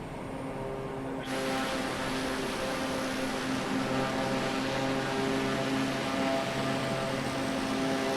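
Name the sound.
inside a small charter aircraft in flight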